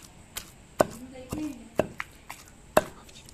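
Cumin seeds being pounded in a mortar, a series of sharp, irregularly spaced thuds, close and distinct, with quieter knocks in between.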